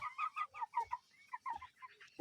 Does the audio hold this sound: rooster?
yes